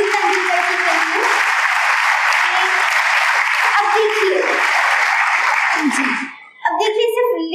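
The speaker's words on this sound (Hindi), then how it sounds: "एक बार जोरदार तालियां बजाइए सचिन तेंदुलकर के लिए।" Loud, sustained audience applause fills a school auditorium at a girls' high school in Navsari during a motivational speech, a dense steady clapping that runs about six seconds before cutting off as a voice resumes.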